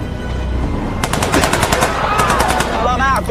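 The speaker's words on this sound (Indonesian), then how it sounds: "petugas perbatasan memberi peringatan tembakan agar mereka berhenti" Rapid bursts of gunfire from border guards firing warning shots, a fast string of sharp cracks starting a second in and continuing to the end over a noisy, busy background.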